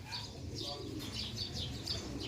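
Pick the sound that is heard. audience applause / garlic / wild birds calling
wild birds calling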